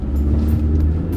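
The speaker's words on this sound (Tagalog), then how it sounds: "So ngayon testing natin ang acceleration." A Changan Uni-K with a 1.5 turbo engine accelerates hard during a test, giving a brief, steady, deep engine rumble heard from inside the car.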